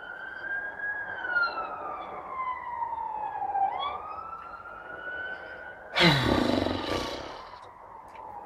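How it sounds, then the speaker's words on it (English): A fire engine's siren wails in long rising and falling sweeps at moderate distance, then a louder burst of broadband traffic roar swells briefly before the wail carries on; no one speaks. "Bloody fire engines, they're going to save people's lives."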